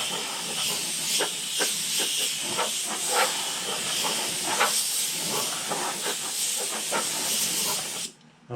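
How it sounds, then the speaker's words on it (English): Compressed air blowing dust off a 1:350 scale Polar Lights TOS Enterprise model kit, a loud continuous close hiss with slight fluttering pulses that stops abruptly at the end. "I'm just going to go ahead and hit it with my compressed air again"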